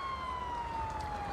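Police siren in Grand Theft Auto V, a steady wailing tone held over a car engine rumble at moderate volume, sounding alone without talk.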